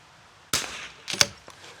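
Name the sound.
rifle shots fired at target range, Vudoo Three 60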